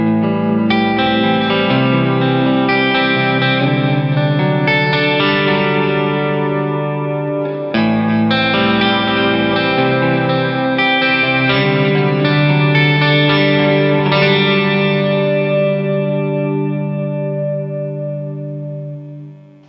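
A sustained guitar chord washed in shimmering, octave-rich reverb from a shimmer reverb pedal, ringing thick and bright with a long swelling tail, briefly re-struck midway, then slowly fading.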